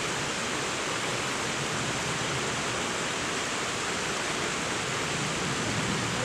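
A river flows beside rice fields as a constant, dense rush of water, loud and unbroken throughout.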